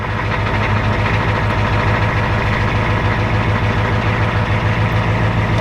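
A farm truck engine idles steadily right after starting, a loud, close, continuous low rumble with an even throb and no talking.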